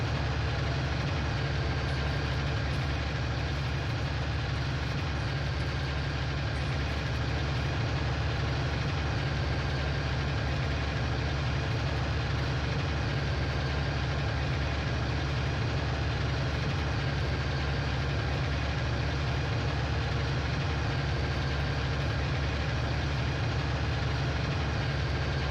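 A tractor engine in Farming Simulator 19 idles with a steady, low, droning rumble that stays even and unbroken throughout, with no other sounds.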